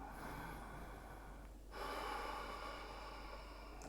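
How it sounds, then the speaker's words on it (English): Deep breathing during an intense power yoga class: a soft, quiet breath with a sharper inhale partway through, heard alone over faint room noise. "can you take 5 breaths? Deep inhale. Steady exhale."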